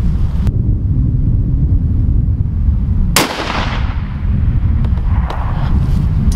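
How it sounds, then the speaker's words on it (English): A .308 rifle fired once during target shooting at 100 yards: a single sharp, loud report with a fading tail over steady, heavy outdoor wind rumble. "So now we're going to make sure the 308 shooting good out to 100."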